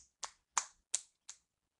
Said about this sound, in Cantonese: 拍手板啦